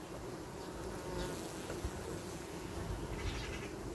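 Honeybees humming quietly around a hive as foragers bring in pollen to a calm colony, a faint continuous buzzing drone with no voices.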